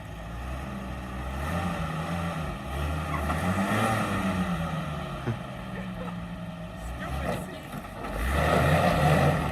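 An old Scout or Land Cruiser grinds along off-road, its engine drone steady and loud with bursts of revving, heard from inside the cab while people talk over it.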